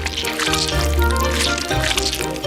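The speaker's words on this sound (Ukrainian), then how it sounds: "Заливаємо у кожну форму шоколад." Melted chocolate is poured into flower-shaped molds, a soft continuous liquid pouring and dripping sound heard close up against faint background music.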